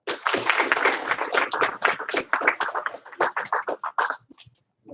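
A classroom gives a student a short round of rhythmic claps, many sharp hand-claps in quick succession that taper off near the end.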